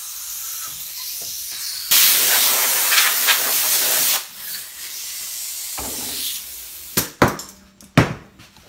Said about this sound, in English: You can use an air compressor and just blow it off or wipe it off.